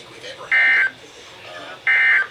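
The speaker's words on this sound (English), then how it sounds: "The station will broadcast severe weather alarm tones" A NOAA Weather Radio severe weather alarm tone sounds as two loud, steady electronic tone bursts, each lasting about a third of a second, separated by a gap of roughly one second.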